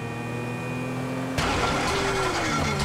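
A steady electronic hum gives way to a boat engine in Grand Theft Auto V abruptly coiling to life, running rough and uneven with a sputtering rumble.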